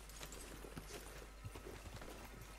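Horse hooves clip-clop in the Red Dead Redemption 2 Online video game, a soft irregular patter of steps over a steady background hum, fairly faint and close.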